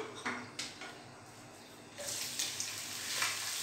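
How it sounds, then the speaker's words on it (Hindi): Onions sizzle faintly in hot oil in a pan, a soft steady frying hiss with a couple of light clinks as they go in, no voices. "ये हमने इसमें ऑयल ले लिया अब हम इसमें डालेंगे अनियन"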